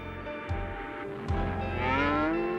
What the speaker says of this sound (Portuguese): Ora, são vacas, claro!